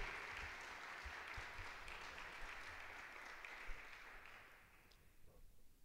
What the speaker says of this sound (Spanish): Les pedimos que reciban a nuestros invitados con un fuerte aplauso